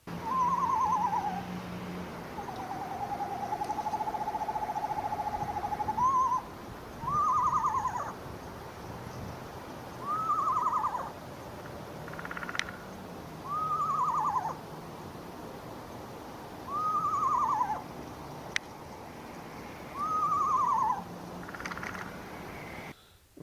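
Recorded song of a small horned owl, about robin-sized, repeating a series of short, rising hoots roughly every two seconds, alone against a steady faint background hiss, haunting and evenly spaced.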